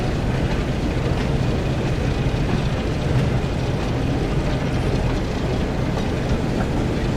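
Thomas the Tank Engine running in the Train Sim World 5 game, a steady low rumble of the locomotive and wagons rolling along the track, constant and moderately loud with no talking.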